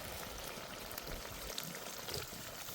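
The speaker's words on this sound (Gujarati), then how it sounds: "તો મિત્રો આપણે થોડુંક પાણી નાખી દઈશું" Water is poured into a pan of green bhaji, a soft continuous splashing and hiss that stays faint and even for a few seconds with no voices.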